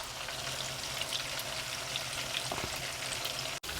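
Chicken 65 pieces frying in oil over a medium flame give a steady, dense sizzle that crackles continuously at close range, with one brief dropout near the end and no voices.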